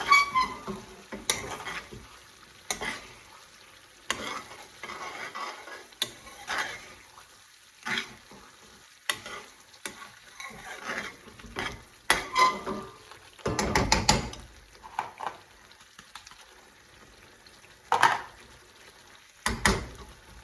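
A utensil stirs spicy minced-meat keema with potatoes and garam masala in a pan, making irregular scraping knocks and clatters over a faint sizzle. No one speaks.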